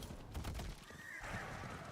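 A horse neighs in the Diablo 4 video game, a short whinny with a faint clip-clop of hooves, heard alone and fairly close.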